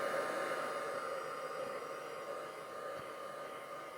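A heat tool drying embossing ink on a low setting blows a soft, steady airy hiss that stays faint and even throughout.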